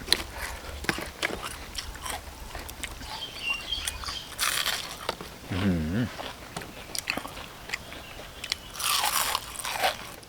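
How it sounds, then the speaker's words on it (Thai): Crispy fried batter bitten and chewed close up in a forest cooking setting, with loud crunching bites and steady chewing throughout, a brief voiced murmur in the middle. "นี่แป้งทอดกรอบกรอบดีจ้า"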